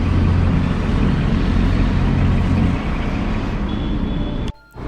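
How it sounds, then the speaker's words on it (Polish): Motor scooters ridden by people dressed as Santa Claus pass along a Vienna street, giving a steady, loud engine and road rumble that eases off near the end and then briefly drops away. "Mikołaje na skuterach."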